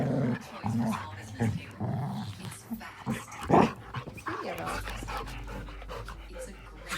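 Dogs scuffling over a toy, with growls, panting and snarls in bursts up close, mixed with a person's voice and a steady low hum near the end.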